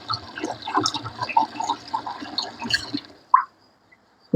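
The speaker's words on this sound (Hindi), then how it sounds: "तो वो तसले में पानी भर के रख रही हूँ" Water fills a metal basin (tasla) in a home kitchen, giving an irregular splashing, trickling patter close by that stops, followed by a couple of isolated drips or clinks in near silence.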